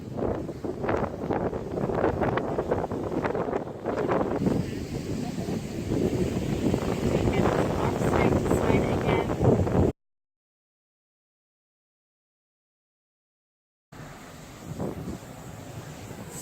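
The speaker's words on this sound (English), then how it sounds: "Super windy today," Strong wind buffets the microphone on a windy seaside morning before a thunderstorm, a loud continuous rumble with gusty surges; it cuts out to silence for a few seconds, then returns.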